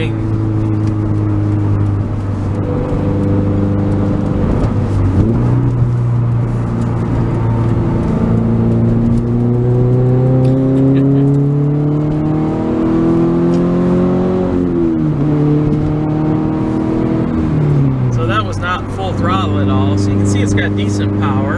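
A 2017 Subaru BRZ Limited with performance package and 6-speed manual accelerating on the road, engine drone rising through the gears with pitch dips at each shift, heard from inside the car with someone talking over it.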